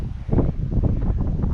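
Strong wind gusts buffet the microphone at a hilltop lookout tower on a forest loop trail in the Királyerdő mountains of Transylvania, a loud continuous rumbling roar with no voices.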